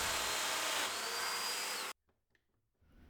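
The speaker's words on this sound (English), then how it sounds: "So to attach the seat base to the seat back, again, I'm using the domino." A Festool Domino joiner cuts a joint in a walnut chair seat, a loud steady whirring buzz for about two seconds that stops abruptly, followed by faint handling knocks.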